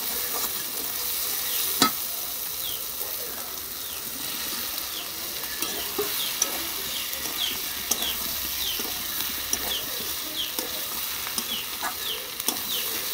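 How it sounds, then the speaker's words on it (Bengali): Pre-fried potatoes stirred into a cooked spice paste in a pan for a potato and eggplant fish curry, giving a soft, steady sizzle with occasional light clicks of stirring. "এবার সেই কষানো মশলার ভিতরে দিয়ে দেব আগের থেকে ভেজে রাখা আলু"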